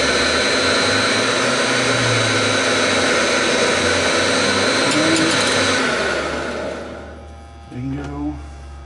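A faceted cutter grinds inside an elongated hitch pin hole with a loud, steady, harsh whir. The tool then winds down and cuts off near the end, leaving a brief voice speaking afterward.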